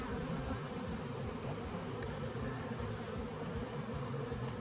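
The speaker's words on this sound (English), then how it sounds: "bees are getting a little bit cranky." Honey bees buzz around their hives in the evening during requeening, a dense continuous hum filling the air close by with no talk.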